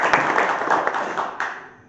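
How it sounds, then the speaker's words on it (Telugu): A crowd claps together at a felicitation ceremony for G. Bettanna Goud at Kandukur church, a dense, close burst of applause lasting under two seconds that thins and fades at the end. "వారికి అందరికీ గట్టిగా ఒకసారి చప్పట్లు కొట్టి అభినందించుకోండి."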